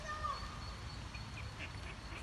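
A wild duck and eight ducklings in a UK back garden near a pond give faint, distant quacks and peeps over a low background hum.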